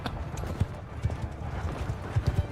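Horse hooves gallop in the video game Mount & Blade II: Bannerlord, a steady clip-clop of heavy hoofbeats close by over low battle rumble, with faint voices mixed in.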